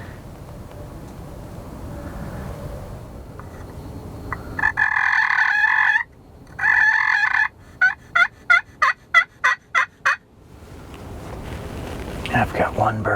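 Wild turkeys call from a field during a bow hunt, with a run of loud rhythmic yelps and gobbling bursts in the middle, framed by quiet talk at the start and end.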